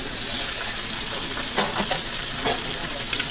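Marinated chicken tipped into a hot pot for biryani, loud steady sizzling and frying with a few stirring scrapes, close up and without talk.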